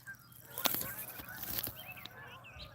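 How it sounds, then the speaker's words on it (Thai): Wild geese honk in the open, a few loud calls standing out from a faint chorus of softer honks, with light background noise. "มันคือห่านค่ะห่านห่านที่ไม่ได้เลี้ยงนะคะ"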